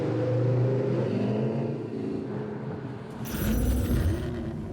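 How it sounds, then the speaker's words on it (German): A V8 engine rumbles at idle and then surges into a louder, rising roar partway through, its deep throaty drone steady and close with no talk over it. "Hier unser Top 5 Ranking der dröhnenden V8-Motoren."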